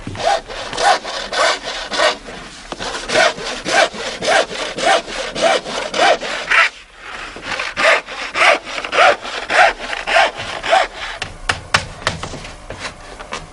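A hand saw cutting wooden boat planks, the paired strakes for a small sailboat, in steady rhythmic back-and-forth strokes, close and crisp, with a brief pause midway before the sawing resumes at the same brisk pace.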